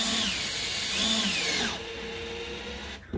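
A power drill backs screws out of a Stanley FatMax Professional power station, its motor whining loud and close with rising and falling pitch, then dropping to a steadier lower hum before stopping.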